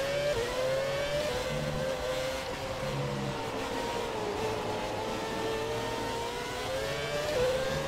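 Formula 1 cars race in the F1 2017 video game, a steady loud engine whine rising and falling in pitch throughout, with no talk over it.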